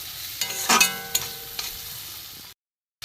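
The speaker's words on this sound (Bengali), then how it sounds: "এই লঙ্কা এইগুলো গুঁড়ো মশলাগুলো দিয়ে দিলাম, দিয়ে আমি একটু কষবো।" Chili and ground spices being sautéed in a pan over lowered heat, a soft sizzle with a few scraping stirs and clinks of a spatula, fairly quiet, cut off briefly near the end.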